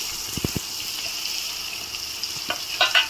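Onions and curry leaves frying in hot oil, giving a continuous bright crackling sizzle with a few spatters and light utensil taps near the start and end.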